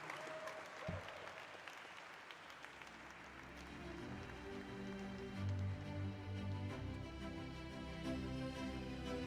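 A crowd applauds at a stock exchange listing ceremony for Lenskart Solutions Limited, a sustained, rain-like patter of many hands that grows fuller as tonal music swells in underneath.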